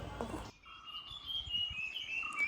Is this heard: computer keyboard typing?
no